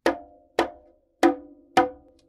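Four sharp closed slap strokes on a conga, each a crisp, ringing crack that decays quickly, evenly spaced and close, with no talking.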